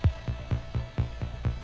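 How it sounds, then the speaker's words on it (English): A delay audio effect repeats a low thudding pulse about every quarter second, each echo evenly spaced, over a steady hum with no voices. "You can hear the delay running there."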